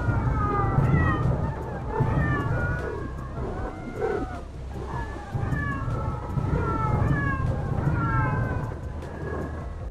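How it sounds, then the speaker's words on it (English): Machines in the factory-building game Techtonica meow like cats, with repeated rising and falling meows overlapping one another over a steady low mechanical hum. "you can turn on cat sounds, and the machines will all meow at you"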